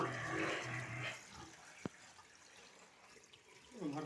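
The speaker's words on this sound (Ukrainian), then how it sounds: "ставимо, наливаємо свіженькою чистенькою водичку" Fresh water splashes and trickles as it is poured into a pig drinker in a pig pen, a soft, fairly faint pouring rush with a brief knock, and a voice speaking at the start and end.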